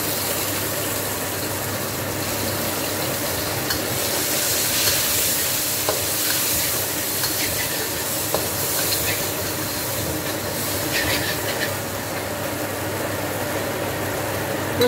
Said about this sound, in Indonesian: Jadi ini ditumis sampai warnanya coklat dan baunya harum ya.